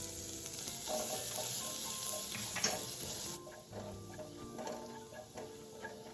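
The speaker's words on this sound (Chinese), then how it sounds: "倒入备好的小红葱末爆香。" Chopped shallots sizzle steadily in hot oil in a wok while fish sauce bee hoon is being cooked, a continuous close frying hiss with small crackles and a few light clinks.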